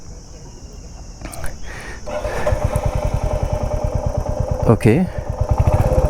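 A Royal Enfield Hunter 350 motorcycle engine starts and settles into a steady, thumping single-cylinder idle close by, with a brief rev near the end and a short spoken word over it.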